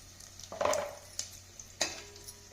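Curry leaves and turmeric in a hot pan for a tempering, giving a soft sizzle with a few sharp crackles and spoon-against-pan clinks, fairly quiet and close, with no talk.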